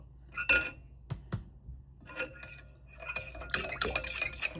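A spoon stirs agar agar powder into liquid in a bowl, making bright clinking scrapes against the sides, sparse at first and then a quicker run of metallic taps, close and crisp with no talking.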